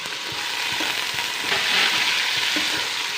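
Capsicum, cauliflower, beans and potato sauté in hot oil for veg biryani, a loud steady sizzle with rhythmic scraping thumps of stirring close up and no talking.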